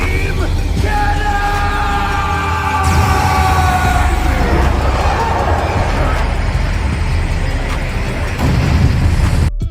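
A Dragon Ball anime energy attack, the Special Beam Cannon, charges with rising whining tones and then erupts into a loud, sustained roaring blast. Shouting voices accompany it.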